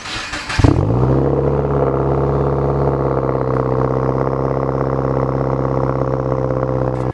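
Subaru WRX fitted with a Tomei exhaust, a sharp blip at the start and then a loud, steady engine drone held at raised revs for several seconds, close by with no talking.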